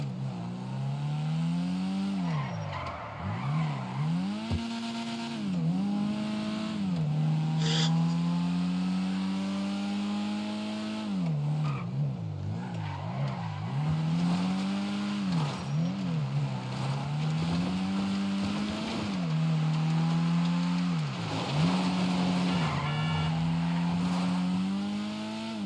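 A car in a racing video game (Tokyo Xtreme Racer) revs through repeated rising and falling engine sweeps, loud and close, with occasional tyre squeal mixed in and no talk.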